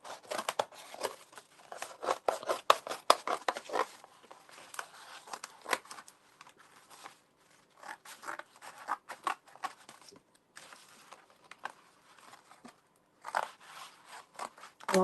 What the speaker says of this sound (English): Then cut your heart shape out.